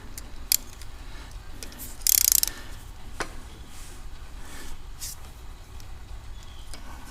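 A ratchet clicks as a steel rear pin is snugged into an aluminum Grom handbrake caliper, with a short burst of rapid clicking and a few isolated metallic ticks and clinks close by.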